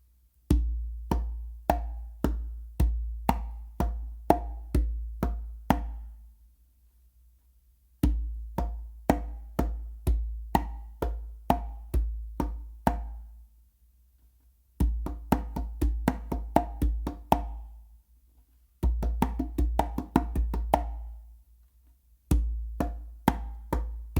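Close, dry conga slaps and deep bass tones in repeating rhythmic phrases, separated by short pauses, played solo with no talking.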